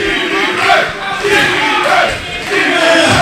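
Wrestling crowd at a 1CW independent show cheering and shouting throughout, a dense roar of many voices with swells, with a voice speaking over it.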